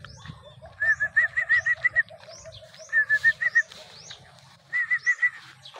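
Racing pigeons coo in short repeated rhythmic bursts at a derby loft in Silang, Cavite, three clear phrases close by with a low background rumble.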